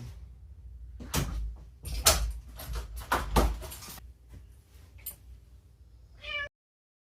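Thumps and knocks of objects being moved are followed by a single short meow from a nearby cat at the very end.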